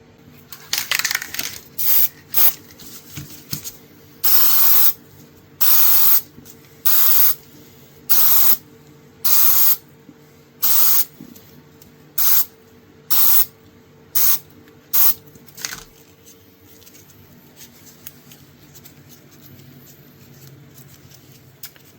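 Aerosol acrylic coating sprayed onto a vintage knife handle in about a dozen short, sharp hissing bursts with brief pauses between them, close and loud, the sequence tapering off into quiet.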